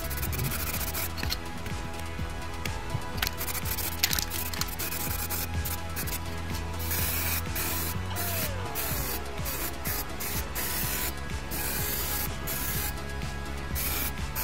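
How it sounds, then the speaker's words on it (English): Spray painting the masked-up headlights on a Caddy mk3 van: a continuous hissing spray held steady for the whole stretch, close and fairly loud, broken by brief pauses and light rubbing noises. "Right, now that's all masked up, looking lovely. Let's get it painted."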